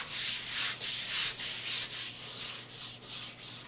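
Stiff brush scrubbing a wooden cutting board doused with vinegar in a kitchen sink, a steady run of rhythmic rasping strokes, close and fairly loud, with no talk.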